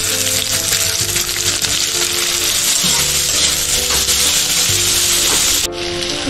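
Chopped chillies frying in hot mustard oil with cumin and a bay leaf, a loud continuous sizzle close up that drops off abruptly near the end.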